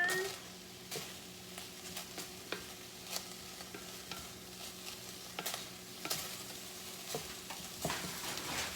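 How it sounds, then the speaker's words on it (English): Meat frying in a skillet gets stirred with a utensil, giving a steady low sizzle under scattered scraping clicks and knocks against the pan, close and moderately quiet throughout. "I gotta stir my meat again so it don't burn"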